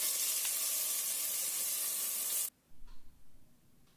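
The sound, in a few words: ground paste sizzling in hot Dalda vanaspati oil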